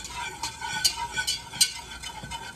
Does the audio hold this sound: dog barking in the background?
no